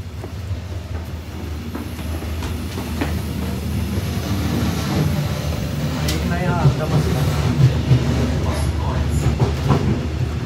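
Steady rumble of a moving double-decker train in Berlin with rhythmic rail clatter, heard from inside a carriage, while people talk over it.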